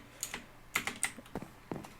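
Computer keyboard keys clack in quick, uneven bursts during a Minecraft session, about ten close, crisp taps and presses with short pauses between, no voices.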